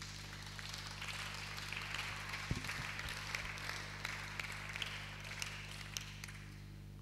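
A church congregation applauding, heard as a faint, distant wash of scattered clapping over a steady low hum, with a brief low thump partway through and no clear speech.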